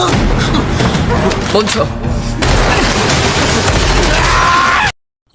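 Gunfire in a Squid Game season 3 shootout in an operating room, with dense bursts and booming shots layered under a shouted voice, ending abruptly in silence.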